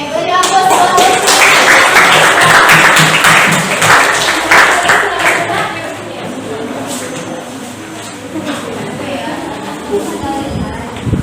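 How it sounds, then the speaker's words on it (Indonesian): Classmates clap for Ufi in a classroom, a dense burst of applause that is loudest at first and then thins into scattered claps, with some voices mixed in. "beri aplaus buat Ufi"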